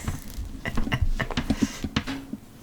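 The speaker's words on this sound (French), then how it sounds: "C'est la pluie. La pluie revient." Irregular soft pattering taps close by, a scattered drip-like rhythm over a low background rumble, with no talking.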